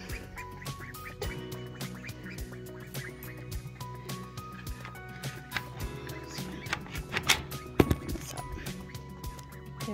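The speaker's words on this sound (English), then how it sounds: "This is what the ducks are looking like now." Ducks on a small homestead, nearly full grown, quack repeatedly in a quiet outdoor setting, with irregular short calls scattered over a faint background and a few louder quacks near the end.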